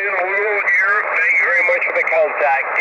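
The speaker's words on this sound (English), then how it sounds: "there's static crashes you can see" Static noise from a shortwave receiver connected to an MFJ-1886 HF receive loop antenna hisses under someone talking, with the crackle and hum heard steadily behind his voice.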